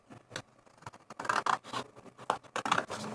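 Scissors cut through paper for a craft pocket, a series of short crisp snips and rustling scrapes, close and fairly quiet, in an uneven rhythm.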